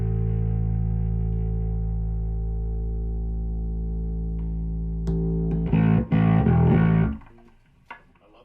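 A heavily distorted electric guitar plays through a bass cabinet, a long sustained droning chord followed by a burst of choppy rhythmic strums that cut off into silence, loud and close.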